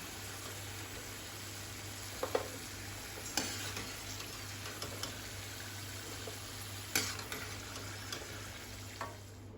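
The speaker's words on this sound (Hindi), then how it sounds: "इसे भी हम गोल्डन होने तक फ्राई कर लेंगे" Arbi (taro root) pieces frying in oil make a quiet, steady sizzle, broken by a few sharp clicks and scrapes of a spoon against the pan, close by, with no talking.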